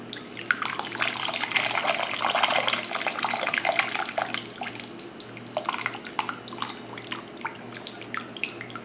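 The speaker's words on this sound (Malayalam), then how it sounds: "ഞാൻ വാളംപുളി പിഴിഞ്ഞെടുത്തത് ഞാൻ ഇതിലേക്ക് ഒഴിക്കുകയാണ്" Squeezed tamarind water is poured into a pot of tomato rasam, a close splashing, trickling stream that thins into scattered drips toward the end.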